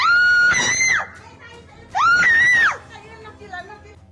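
A woman screams in a played video clip while running away, two long, loud, high shrieks a second apart, with quieter sound between them.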